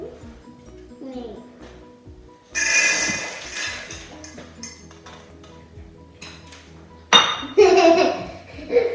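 Cookie dough with flour and chocolate is mixed in a bowl, with a utensil clinking and scraping in irregular bursts that grow louder later on, while voices talk nearby and someone laughs.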